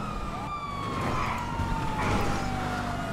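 Police sirens wail in a Grand Theft Auto V multiplayer car chase, a loud steady sweeping siren tone over engine rumble and traffic noise, no voices.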